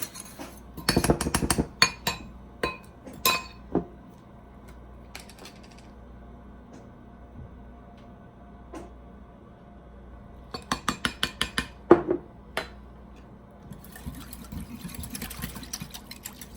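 A utensil clinks against a bowl while teriyaki sauce and ginger are stirred together, making bursts of quick metallic taps separated by pauses. The sound is close and fairly quiet.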